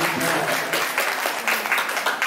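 Audience applause at a Vedic spiritual lecture in India: a thin, steady patter of hands clapping for about two seconds at moderate volume, with a faint voice underneath.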